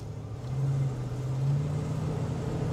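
A 1971 Buick Riviera boattail accelerating smoothly, its engine a steady low drone that swells slightly and holds an even hum from inside the cabin, with no voices over it.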